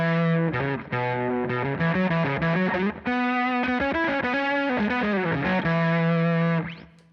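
Distorted electric guitar through a phaser pedal plays a sustained melodic line with a swirling, sweeping tone, loud and continuous, ending on a held note with a quick slide; no talking.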